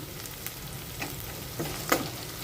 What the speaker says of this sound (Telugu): ఉల్లిపాయ వేపుతున్నాను